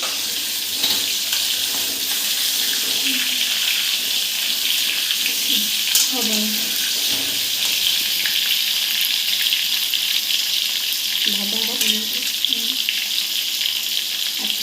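Potatoes frying in oil for biryani, a loud steady sizzle running continuously and close throughout, with faint voices briefly in the background.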